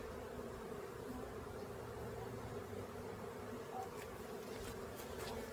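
Honeybees in a brand new hive started from a package this year hum in a dense, continuous drone that stays even throughout, with a few faint ticks near the end.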